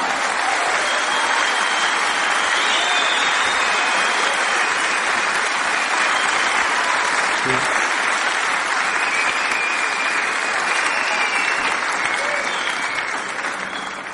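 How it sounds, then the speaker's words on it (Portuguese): A church congregation gives sustained, loud applause, a dense wash of many hands clapping continuously for over ten seconds before easing slightly at the end, with no speech over it. "Dê uma salva de palmas ao Senhor Jesus."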